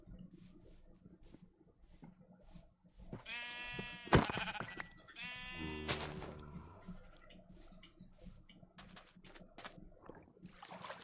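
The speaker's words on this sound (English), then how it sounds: "There's another sheep." Sheep in the Minecraft video game bleat twice in quick succession, wavering calls standing out clearly over quiet game background sounds, with nobody talking.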